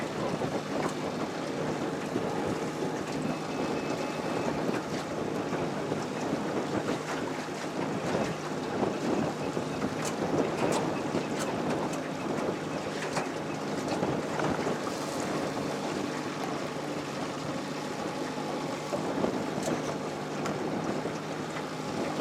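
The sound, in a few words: wind blowing on the water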